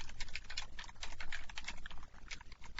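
Rapid, steady keystrokes clatter on a computer keyboard as code is typed, a close, continuous patter of clicks with no voice over it.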